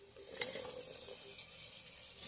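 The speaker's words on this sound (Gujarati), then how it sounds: "હવે આમાં આપણે ડુંગળી નાખી દઈશું" Onions frying in a pressure cooker make a faint, continuous sizzle with a brief clatter near the start, then even crackling throughout.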